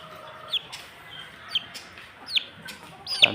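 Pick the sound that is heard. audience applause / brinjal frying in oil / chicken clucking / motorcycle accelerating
chicken clucking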